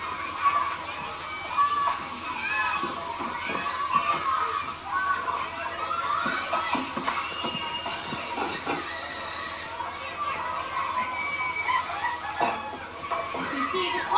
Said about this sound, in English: You can hear the stirring of the wok.